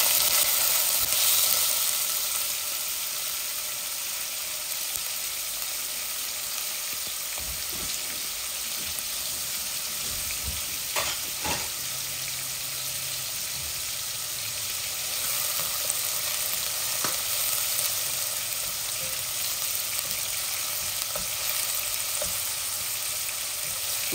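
Onion sizzles steadily in hot oil with cumin and bay leaf for a long stretch. It makes a bright, even frying hiss, with a few faint clinks and stirring noises and no talk.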